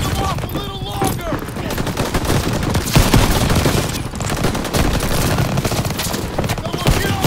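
Machine guns and rifles fire in a Call of Duty WW2 frontline battle, a dense, loud, continuous barrage of rapid bursts and shots with no break.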